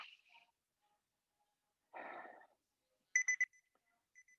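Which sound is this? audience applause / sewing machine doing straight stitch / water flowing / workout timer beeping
workout timer beeping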